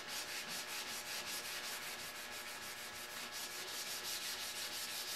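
Primer on a Chevy Cruze body panel being block sanded by hand, a steady continuous rasping scrub that keeps a fairly even loudness throughout with faint rhythmic strokes, close up and with no talking.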